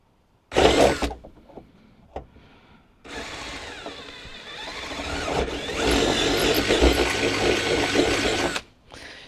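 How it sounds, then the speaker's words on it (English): A power drill bores through the plastic of a Honda Element tailgate storage install, a short burst first, then a longer loud whirring grind with mechanical rattle that runs several seconds before cutting off. "And then I'm just gonna come through and drill."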